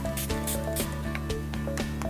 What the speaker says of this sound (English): I take my spritzer bottle, and this just has water in it, and I spritzer the whole palette with a little bit of water